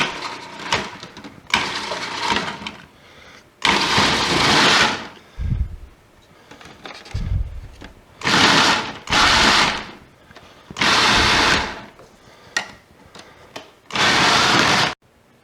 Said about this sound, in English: I have a pound and a half of this failed mozzarella cheese, and I'm just going to grate it up here